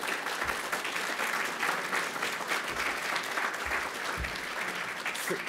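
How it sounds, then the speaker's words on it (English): Sustained applause from a conference audience fills the room, a steady dense clatter of many hands clapping at an even level throughout, with a few brief low thumps. "please, just a big round of applause for her great work"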